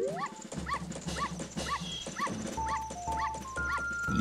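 A dog in the video game The Legend of Zelda: Majora's Mask barks in a steady run of short, evenly spaced yaps over game music and a low hum, fairly loud and close.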